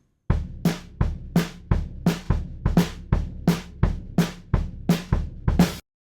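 A drum kit captured by two ribbon microphones, one in front of the kick and one overhead, plays a steady groove of regular kick thumps and snare cracks, close and punchy with vintage warmth.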